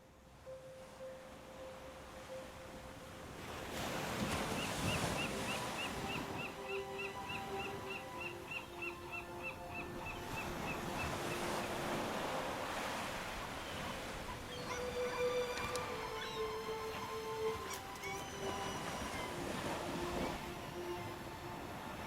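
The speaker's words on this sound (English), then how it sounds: "I want to see the ocean." Ocean waves wash onto a winter beach. A broad, rolling surf rises and falls at moderate volume, partly covered by sustained musical tones.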